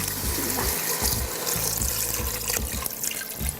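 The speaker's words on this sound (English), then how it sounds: "So here I add my water." Water runs steadily from a tap into a pressure cooker holding meat in a home kitchen, a continuous close splashing flow with no talking.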